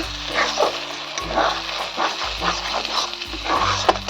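Masala for pumpkin kofta sautés in hot oil, a steady close sizzle broken by light stirring scrapes, with a faint low hum beneath.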